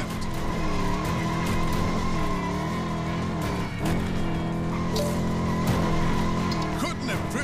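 A car drifts in the LEGO 2K Drive video game, with continuous tire squeal and skidding over a steady engine drone, wavering pitch sweeps throughout and loud, close game audio.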